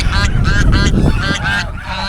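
Domestic geese honk loudly and close by in a rapid, overlapping series of nasal calls on a riverside char island, several birds calling at once with no talk over them.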